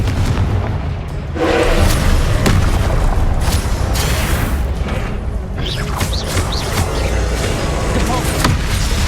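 Confringo blasting spells go off in Hogwarts Legacy combat, repeated loud booming bursts with crackling debris and mechanical clatter in a busy, dense mix of game effects.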